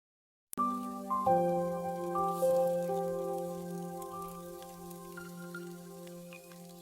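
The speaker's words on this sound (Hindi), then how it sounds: "बाहर बारिश लगातार तेज हो रही होती है और बूंदें छत पर गिरकर एक मधुर संगीत जैसा एहसास कराती हैं।" Rain falling and dripping on a village house roof at night, starting abruptly after a short silence, with sustained resonant tones ringing over a soft steady patter throughout.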